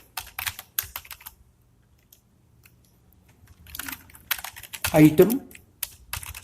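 Computer keyboard typing code during a data structures lecture: bursts of close, crisp keystrokes with a quiet pause between them, and someone speaking briefly.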